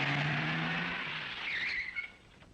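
A car pulls away in a Hindi film scene with a loud rushing engine and a brief tire squeal, then fades as it drives off into the distance.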